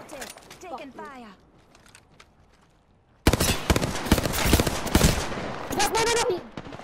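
Rapid automatic gunfire erupts in an Apex Legends match after a quieter stretch, dense loud bursts continuing to the end, with a player's voice talking before the shooting begins.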